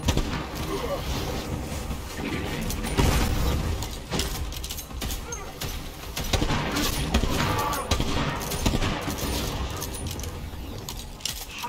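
Gunfire from a powerful gun in the video game Borderlands 3, dense and continuous over busy game noise and music, with rapid bursts of shots throughout.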